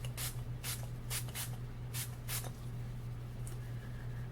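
Several short hissing bursts of a makeup setting spray, misted in quick succession over a steady low hum, then quiet with a couple of faint later puffs.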